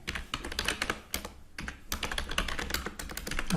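Rapid, continuous typing on a computer keyboard while entering an Oracle SQL Plus command. Dense clusters of keystrokes with a brief pause midway, close and fairly loud, with no voices.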